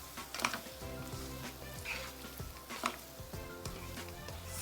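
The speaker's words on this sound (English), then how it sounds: "here comes our marinated chicken breast. So just keep stir frying it" Marinated chicken breast stir frying in a pan on very low heat, a faint steady sizzle with occasional soft clinks and scrapes of a utensil stirring.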